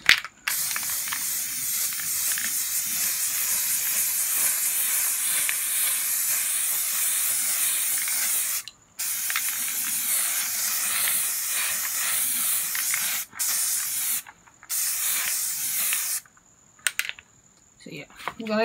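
A spray paint can hisses in long bursts with brief pauses between, painting a rolling tray, close and loud, the later sprays shorter and choppier.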